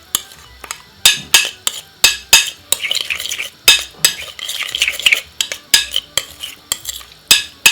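A spoon clinks and scrapes around a bowl as salsa with garlic and spring onion gets stirred. The sharp, close knocks come in an irregular rhythm with soft wet mixing between them.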